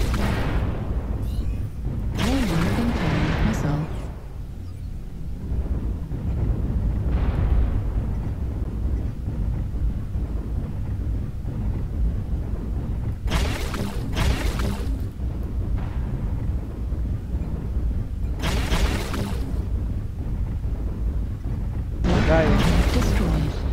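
Explosions rumble through a mech combat video game as an enemy mech is destroyed. A heavy, continuous roar of deep blasts is broken by several sharp bursts, and an occasional synthetic voice sounds over the din.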